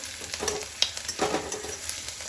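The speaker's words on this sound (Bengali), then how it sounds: "পেঁয়াজটাকে আমি একটু লাল লাল করে ভেজে নেব" Onions sizzle and crackle in hot oil as they fry until reddish-brown for a dried-pea ghugni, with a few sharp spatters and the scrape of stirring, fairly close and steady.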